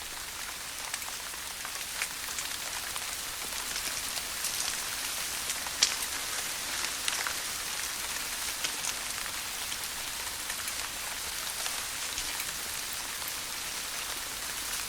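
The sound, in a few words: rain falling in gorilla habitat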